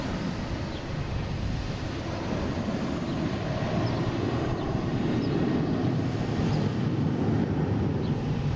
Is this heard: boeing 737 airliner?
yes